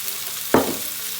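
Vegetables frying in olive oil for a tajine, a sudden hiss of sizzling as they are stirred in the pan, flaring loudly and then fading under a low steady background.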